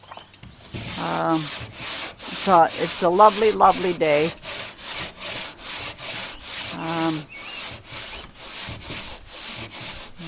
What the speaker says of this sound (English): he's sanding the lower roof of the boat